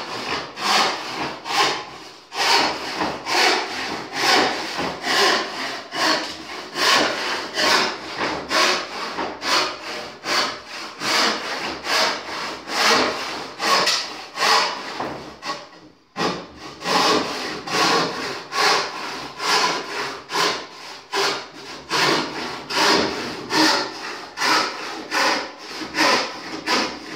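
Irwin Evo 22in hand saw cutting through wood in steady rhythmic back-and-forth strokes, close and clear, with one short pause midway before the sawing resumes.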